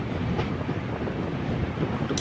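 Riding aboard the Punalur–Nagercoil passenger train in Kerala, a steady rolling rumble of wheels on rails fills the space, with dense low noise, faint rhythmic clatter and a brief high squeal near the end.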